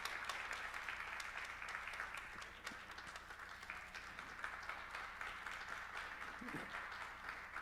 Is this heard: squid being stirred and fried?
no